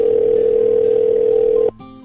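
A telephone dial tone after a call is hung up: a loud, steady single-pitched hum that runs unbroken for most of the moment. It then cuts off abruptly into a softer, different tone.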